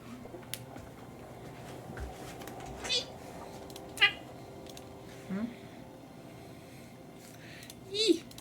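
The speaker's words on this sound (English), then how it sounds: "Orange cat noises?" An orange cat meows several times, short separate calls spaced a few seconds apart, fairly close, over a quiet room background with faint voices.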